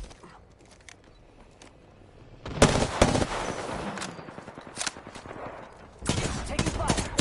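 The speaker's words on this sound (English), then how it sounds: "Taking fire." Gunfire sounds as a loud, close volley of rapid shots after a quiet stretch, then a second sharp burst near the end, with faint scattered shots before.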